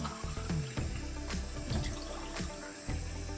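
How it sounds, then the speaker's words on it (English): Tap water runs steadily into a pot for pet birds, a close, fairly quiet splashing stream with small clinks in an indoor room. "Here we're filling up their water"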